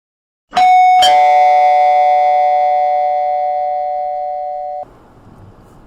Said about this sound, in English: rang the bell